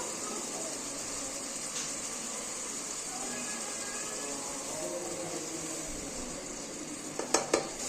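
Tomatoes and spices sautéed in a pan hiss with a soft, steady sizzle, faint and continuous, with a couple of sharp metal scrapes of a spoon against the pan near the end.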